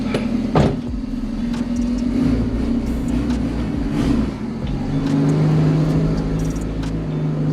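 A turbocharged B20 VTEC car engine runs nearby, with a steady low drone that swells as the engine revs while the car pulls out, and a few light clunks and knocks over the hum.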